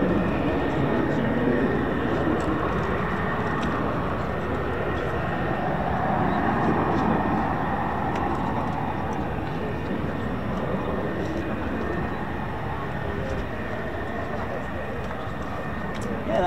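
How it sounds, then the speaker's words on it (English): An F-35B fighter jet from RAF Marham, fitted with external missile rails, makes a low approach, producing a loud sustained roar that holds steady for the whole stretch, with voices beneath it. "that was F-35B from RAF Marham with the external missile railings on there"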